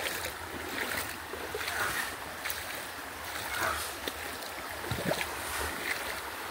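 Floodwater from the merged Tocaría and Cravo Sur rivers surges steadily past a rural house, a continuous rushing, washing roar with faint wind-like gusts and a few brief splashes.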